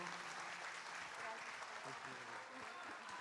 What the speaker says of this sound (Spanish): aplauso, por favor, para despedir a Denise Guerrero